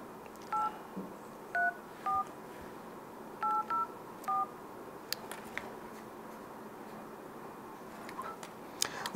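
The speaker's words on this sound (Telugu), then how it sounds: "సునీల్ నెంబర్కి ఫోన్ చేస్తున్నాను" A telephone keypad sounds seven short touch-tone beeps in an uneven rhythm while a call is placed, followed by a few faint clicks and taps.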